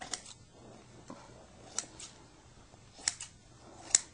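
Scissors trimming dining room chair upholstery, a series of quiet, crisp snips spaced irregularly over a few seconds, close by with no talk.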